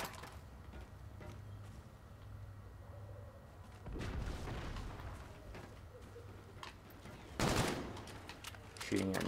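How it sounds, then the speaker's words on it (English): Bursts of video game gunfire crackle in short volleys during an online shooter match, mixed with game effects and a player talking over the action; a louder burst lands near the end. "Shooting at nothing."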